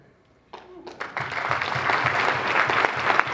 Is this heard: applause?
yes